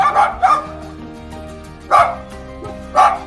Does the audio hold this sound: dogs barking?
yes